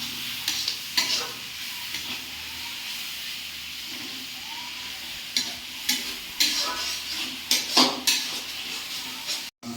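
Spice paste for a duck curry stirred and fried in a pan, with a steady sizzle and intermittent scraping and clanking of a utensil against the pot, close and unaccompanied by talk.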